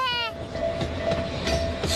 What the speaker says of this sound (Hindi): मिनी ट्रेन भी चलती है इस पार्क में।